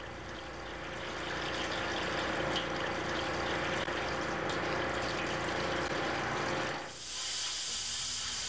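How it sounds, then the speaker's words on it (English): A water hose rinses soap from a Koomey unit accumulator filter element, giving a loud, steady hissing spray for several seconds before it cuts off abruptly and a quieter flow follows. "Rinse the element until the water is clear of soap."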